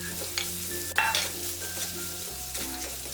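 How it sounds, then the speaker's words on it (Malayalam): Chopped onions sauté in a pan for a Kerala prawn curry, a steady close sizzle broken by a few scraping stirs and light clinks of the spoon against the pan. "ഇനി ഇതിലേക്ക് ഈ അരിഞ്ഞു വെച്ചിരിക്കുന്ന സവാളയും കൂടി ഇട്ട് നല്ലതുപോലെ ഒന്ന് വഴറ്റി കൊടുക്കാം."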